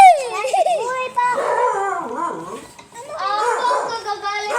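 An angry dog barks and howls in loud, wavering bursts close by, with voices talking in between.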